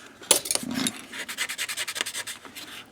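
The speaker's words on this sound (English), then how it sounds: "Something I'm going to do with that parting line, just do an initial scraping of it." A blade scrapes along the parting line of a small-scale model car part, making a quick sharp scratch followed by a rapid series of rhythmic raspy strokes, close and clear with no speech.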